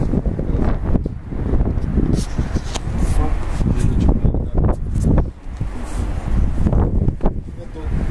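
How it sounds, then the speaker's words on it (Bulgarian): Outdoor wind buffets the microphone in loud, rumbling gusts throughout, with people talking over the noise during a filming day. "Тук му бие вятър в него, това няма да помогне."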